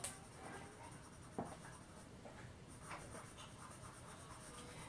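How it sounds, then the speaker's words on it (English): A black pencil scratches and rubs across paper in a charcoal-style drawing, a faint, continuous close-up scribbling with a few sharper taps, and no talking. "I'm taking the black pencil"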